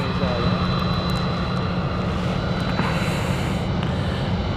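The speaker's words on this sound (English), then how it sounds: "in the sunlight EasyJet taking off" An EasyJet jet airliner takes off at Stansted Airport, its engines a steady broad roar at moderate distance, with a person talking over it.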